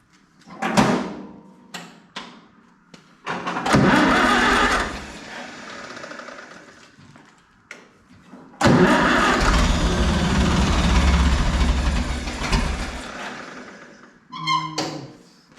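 An Oliver 66 Industrial tractor engine, run without its air filter, cranks and catches twice, each time settling into a loud, steady rumbling run. Clanks and knocks come between the start attempts.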